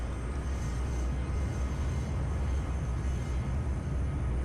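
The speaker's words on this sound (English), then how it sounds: "let's take off and see how she flies" Rockwell X-31 jet in Flight Simulator X rolling down the runway for takeoff, a steady broadband engine roar with deep low rumble holding even and loud throughout, no voices over it.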